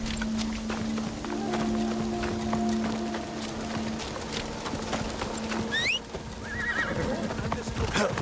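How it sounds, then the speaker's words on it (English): A horse in the video game Assassin's Creed Shadows, with a whinny and neigh around the middle amid steady game ambience and faint hoof clops, fairly close and moderately loud. "And there's my horse."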